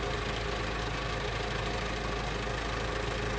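An Isuzu 4HK1 diesel engine that burns oil but pulls strongly runs at a steady idle, a loud, even close clatter and rumble with no change in pace.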